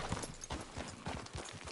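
Horse hooves clopping on the ground during a ride in Red Dead Redemption 2, a steady, fairly quiet rhythmic patter with faint background ambience.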